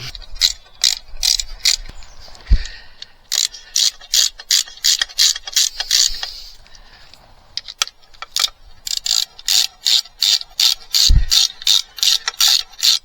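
Hand ratchet undoing gearbox bolts on a Yamaha 8hp outboard, a close, crisp run of rapid rhythmic clicking strokes in bursts with brief pauses between, no talking.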